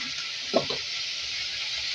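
Chicken feet (murgi ke panje) fry in hot oil for a spiced chicken dish, a steady close hiss with a couple of brief stirring scrapes near the start and no voices.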